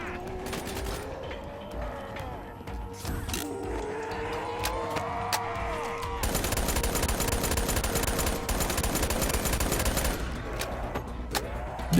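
Rapid automatic gunfire from a Razorback with an extended magazine in a nightmare-mode video game, sustained bursts with a steady clatter that grows denser partway through, under engine-like rumble.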